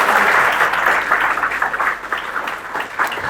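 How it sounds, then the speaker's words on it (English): An audience gives a round of applause at a wellness event, sustained clapping that is loud at first and eases slightly, with a faint voice briefly underneath. "Huge round of applause for her."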